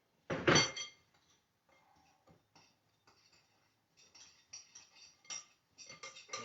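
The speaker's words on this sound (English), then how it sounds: "Start mixing in with our brown sugar and cinnamon." A spoon clinks and scrapes in a bowl, mixing apples with brown sugar and cinnamon for whole baked apples. One loud clatter opens, then quieter, scattered taps and scrapes follow at close range, with no talk.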